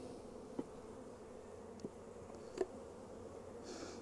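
Honey bees hum faintly at an opened hive during an inspection of brood frames, a soft steady buzz with a few small knocks and clicks scattered through it.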